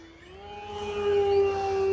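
An E-flite Sportix electric RC airplane with a 1.1 m wingspan glides in to land on a runway, its motor making a steady whining hum that slowly swells and rises in pitch as it draws closer, with no voices.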